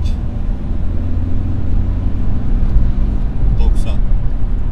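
A Renault Symbol 1.5 dCi 90 hp diesel car pulling hard through third gear, its low engine rumble droning steadily inside the cabin with road noise and a couple of brief higher clicks near the end.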